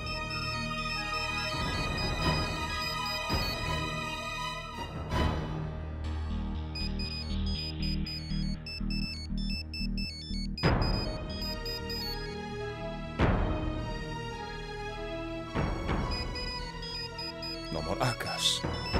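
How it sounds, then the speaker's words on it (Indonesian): Telephone ringtone in an Indian TV drama scene, repeating melodic electronic tones that loop over dramatic background music with sudden percussive hits. "Rachna, telepon berdering."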